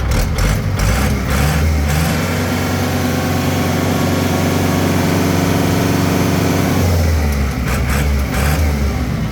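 A 2017 Kubota L5018 tractor engine idles loudly and steadily, a rough continuous diesel rumble close by with no talk over it.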